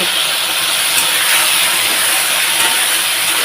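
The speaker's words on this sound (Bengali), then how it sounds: "ভেন্ডিগুলো না সুন্দর আমার ভাজা হয়ে যাচ্ছে" Okra sizzles in a frying pan for a Bengali okra recipe with black cumin seeds (kalonji), making a loud, even, continuous hiss throughout the short stretch, with no voices.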